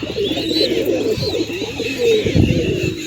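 Pigeons cooing together in a continuous, layered throaty murmur, close and fairly loud, with a few higher chirps overhead and no clear voices.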